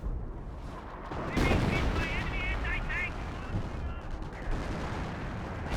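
Battle noise from Company of Heroes 1, with a US landmine exploding and gunfire rolling through a constant rumbling din. A heavier burst lands partway through, and a commentator's voice talks faintly over it.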